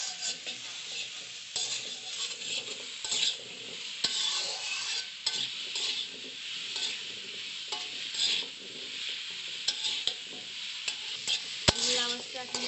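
Chopped bottle gourd with turmeric powder and salt sizzles in a hot pan while being stirred for a Bengali chutney, a continuous frying hiss broken by repeated scraping strokes of a spatula and an occasional sharp knock.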